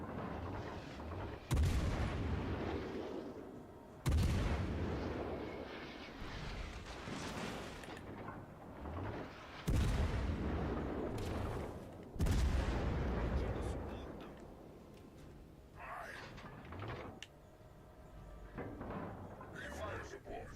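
Heavy naval guns in World of Warships: Legends boom in a steady series of loud salvos a few seconds apart, each with a deep rumbling tail, while game sounds play and a voice talks over them.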